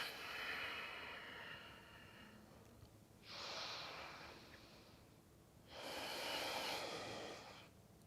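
Slow, deep breaths during a yoga session, with two long, close airy inhales or exhales separated by quieter pauses over steady low background hiss.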